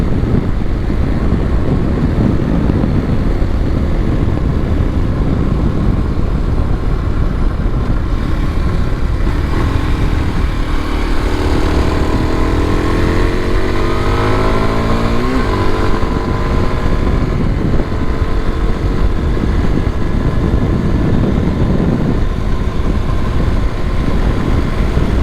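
A 2022 Kawasaki KLX230SE dual sport motorcycle being ridden and shifted through its gears, with a steady engine drone rising and falling under loud constant wind rush, with no talking.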